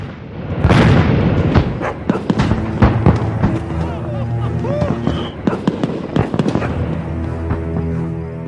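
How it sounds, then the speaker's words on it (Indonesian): Fireworks launching in a film scene: a dense run of pops, crackles and booming bursts, some whistling, over a continuous low rumble and music-like tones lasting throughout. "kembang api yang telah diluncurkan"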